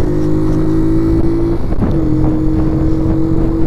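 A Keeway motorcycle engine hums steadily while riding, loud and close with a constant tone that dips briefly midway before resuming, no voices over it.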